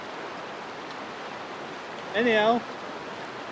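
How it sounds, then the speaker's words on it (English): Steady broadband rush of Low Force waterfall on the Pennine Way fills the whole stretch, a constant roar of falling water with a brief spoken word over it. "this here is low force waterfall"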